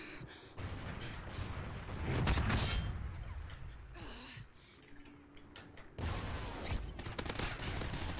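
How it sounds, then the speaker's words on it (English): A Trinity rocket strike explodes in a game, with heavy rumbling blasts and crackling bursts that swell and fade, a quieter lull near the middle, then renewed loud impacts. "Friendly Trinity rocket inbound."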